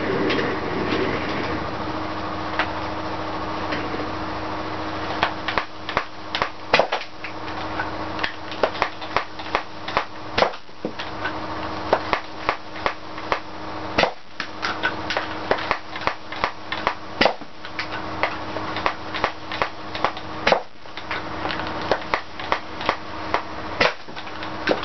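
Modified Firefly toy blaster firing a long run of quick snapping shots, a busy irregular stream of loud clacks and pops over a steady mechanical whir and hum, close by with no talking.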